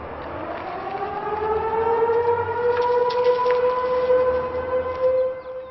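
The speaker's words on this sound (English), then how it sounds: "if you heard the weather sirens today in Douglas County, no, it's just a test" An outdoor weather warning siren test in Douglas County drones steadily with a slowly rising pitch, sounding from a distance over faint ambient noise.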